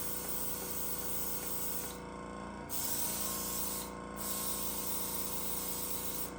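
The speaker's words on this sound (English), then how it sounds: "What I like about the airbrush system is I can dye it all after I'm done." An airbrush sprays dye onto a leather knife sheath, a steady close hiss that runs continuously and briefly cuts out twice as the trigger is released.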